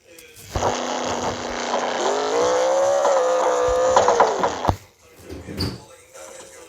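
Video game car drifting in Rec Room, a loud engine drone with a long rising tire squeal for several seconds, then an abrupt cutoff followed by quieter thumps and a brief voice.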